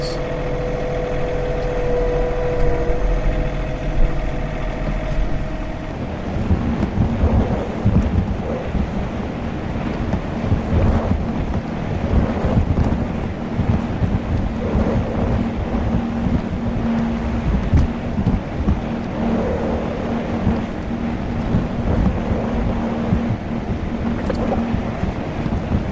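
A small John Deere tractor works steadily on roots and boulders. Its engine drones loud and continuous at close range, with scraping and rumbling from the loader, and wind noise buffets the microphone throughout.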